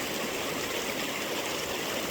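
A mountain stream along the Pacific Crest Trail rushes over rocks in a steady, continuous broadband wash, close and unbroken, with no voices over it.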